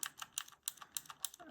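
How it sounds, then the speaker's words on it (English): Keystrokes on a mechanical keyboard with Cherry MX Brown switches, a quieter tactile type than blue switches, come as a brisk series of crisp, fairly soft clicks in an irregular typing rhythm, close and alone. "uses Cherry MX brown switches because they have a slightly worse feedback when you type"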